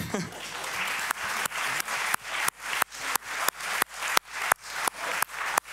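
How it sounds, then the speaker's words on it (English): A crowd at an inclusive-cities gathering in Amsterdam's Pakhuis de Zwijger claps for a colleague, a moderately quiet wash of applause punctuated by sharp, evenly spaced cracks at a steady, brisk rhythm. "Please, a round of applause for Ire."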